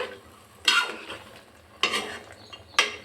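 Cauliflower and peas stirred in a frying pan: three distinct scraping strokes at a slow pace over a faint, steady sizzle, close and moderately loud, with no talking.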